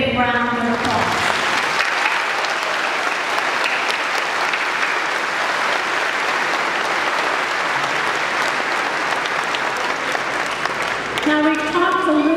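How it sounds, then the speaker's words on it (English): Sustained applause from a graduation audience at the Chautauqua Institution, a dense, steady wash of clapping lasting about ten seconds with a speaker's voice briefly before and after. "Can we give them a big round of applause?"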